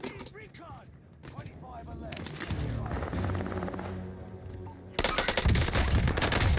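Rapid automatic gunfire from an SMG-class shooter video game crackles in dense bursts, swelling louder toward the end as several players fire at once, mixed with game effects and a voice talking over it.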